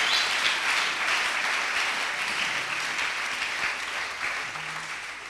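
A church congregation applauds steadily throughout, a dense, even wash of clapping that stays loud from start to finish with a faint voice briefly audible near the end.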